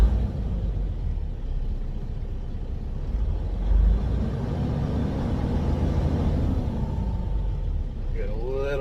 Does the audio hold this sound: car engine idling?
yes